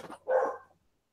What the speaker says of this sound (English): I'm at a different house and there's dogs.